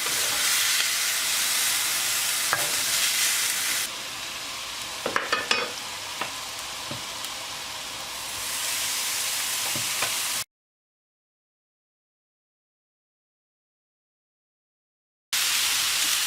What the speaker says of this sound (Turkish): Şimdi hepsini aynı şekilde mühürleyip bu tencerenin içine atacağım